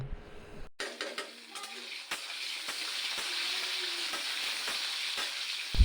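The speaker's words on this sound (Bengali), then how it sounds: "আর এই তো আমি কড়াইতে তেল দিয়ে জিরে ফোড়ন দিয়ে দিলাম, তারপর আলুগুলো দিয়ে দিলাম। এখন ভালো করে ভাজা ভাজা করে নেব।" Potatoes frying in oil with cumin in a kadai make a loud, steady sizzle that starts abruptly after a brief quiet moment, with occasional utensil taps against the pan.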